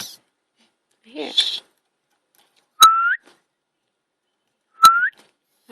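A Quaker parrot gives two clear, rising whistles a couple of seconds apart, each one loud and close. A brief, softer chirping sound comes before them, and a person speaks around it.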